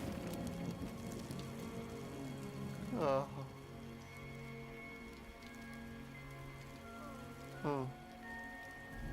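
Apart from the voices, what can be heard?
rain falling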